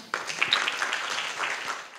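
An audience at a college journalism forum award ceremony claps in welcome, a short, moderately soft burst of scattered applause that begins abruptly and continues evenly.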